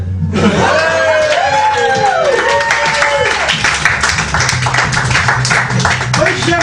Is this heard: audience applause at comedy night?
yes